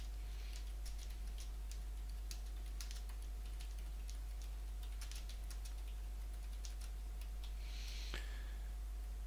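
Steady typing on a computer keyboard with quick, even key taps over a faint constant hum, close and fairly quiet, with no talking.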